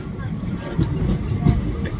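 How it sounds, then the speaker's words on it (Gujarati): Train carriage rumbling and clattering steadily on the rails while riding aboard, close and continuous, with voices talking faintly in the carriage. "ટ્રેનમાં બેસી ગયા છીએ"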